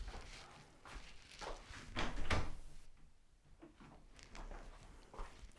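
A door is opened quietly indoors to let a cat in, with soft knocks, a scrape and a few footsteps at low level.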